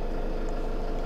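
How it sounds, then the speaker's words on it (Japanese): A camper van's engine idles steadily with a constant low rumbling drone and no variation, close by and fairly loud, while the van is parked. "じゃあ一旦走行してない状態でエンジン台かけてみます。"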